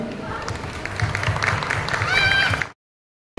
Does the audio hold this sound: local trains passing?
no